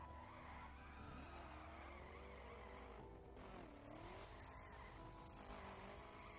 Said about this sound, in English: I'm crashing because unlike Fight Night's Finest, I don't cheat and just use the Dodge Viper that you can unlock.